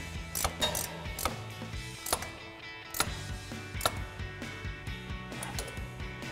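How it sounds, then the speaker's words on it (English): An 18 mm ratcheting wrench tightens a strut nut on a 2007-2018 Silverado 1500 front strut with a 2-inch lift, giving close, crisp bursts of rapid ratchet clicks with brief pauses between strokes. "Next, we can grab an 18 millimeter ratcheting wrench to tighten down our nut."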